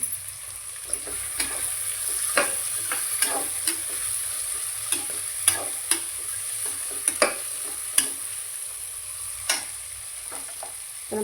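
Tomatoes sizzling and sautéing in a pan for soya biryani, a steady fry hiss broken by sharp clicks and scrapes of a spoon stirring at irregular intervals, close up with no talking.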